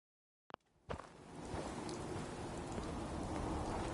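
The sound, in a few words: rain falling in Fallout video game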